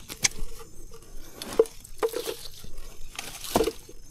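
Water splashes and patters in irregular bursts, with small wet slaps and flicks close by, as gourami fish thrash at the surface of a lake.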